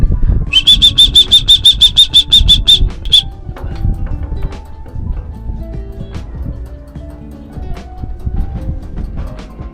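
A racing pigeon flaps its wings as it comes down onto a roof during a 400 km derby race, a quick burst of steady wingbeats up close, with a bright repeated chirping tone over it before it settles into quieter background noise.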